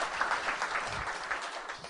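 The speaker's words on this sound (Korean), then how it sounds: "애인께도 함께 박수 한번 해드리겠습니다" A crowd at a media cooperative's 2014 annual general meeting gives a round of applause. The clapping is steady and sustained, a moderately loud wash of many hands with no voices on top.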